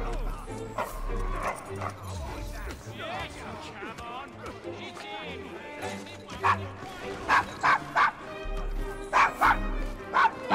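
A dog barking and yipping in Assassin's Creed Syndicate, in a rough district of Victorian London, repeated sharp barks toward the end over game ambience and voices talking.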